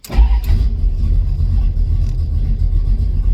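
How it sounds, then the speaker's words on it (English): A 1965 Plymouth engine fired by push-button start cranks briefly, catches with a loud burst, then settles into a steady, deep idle rumble close by. "Press the button and release after the engine starts."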